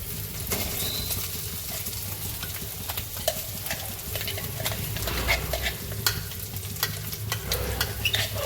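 Green pigeon peas are tipped into a hot frying pan and stirred, giving a steady low sizzle broken by scraping spoon strokes and light clicks against the pan, close and moderately loud.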